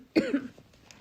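A pregnant woman gives one sharp, close cough followed by a brief throat-clearing rasp, then near silence.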